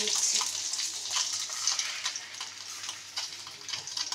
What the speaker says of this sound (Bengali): মাথাটা একটু ভালোভাবে ভেজে নিই